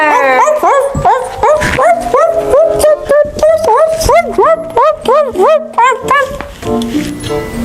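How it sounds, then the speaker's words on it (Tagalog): A dog yips and whines repeatedly in short rising cries, close by, with a voice talking over much of it. "Matalino siyang aso."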